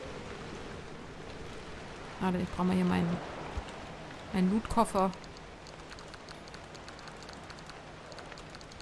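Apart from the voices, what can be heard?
rain falling in the video game Pacific Drive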